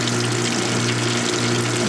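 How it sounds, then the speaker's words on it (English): Steady rushing spray of water with a low pump hum underneath from a Whirlpool direct-drive washing machine on spray rinse, with a broken motor coupler; continuous and fairly loud, no voices. "Now it's doing a spray rinse."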